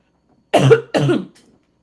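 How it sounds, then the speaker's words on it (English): Two harsh coughs in quick succession, close and fairly loud, with a brief trailing breath afterward and silence around them. "Coughing before a trip."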